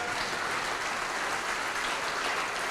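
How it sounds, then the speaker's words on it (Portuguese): Studio audience at a televised Christian program applauding, a continuous even patter of many hands at moderate volume throughout, with no talking heard. "Vamos aplaudir ao nome de Jesus"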